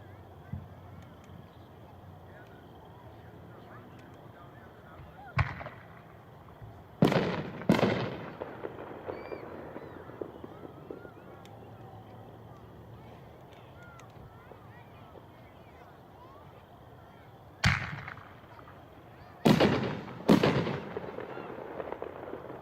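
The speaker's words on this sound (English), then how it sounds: "6-inch artillery by Hot Shot, pack 12/6." Hot Shot 6-inch artillery shell fireworks burst in several loud, sharp booms with decaying rumbles and crackle, spaced irregularly with one pair close together, set over a steady outdoor background.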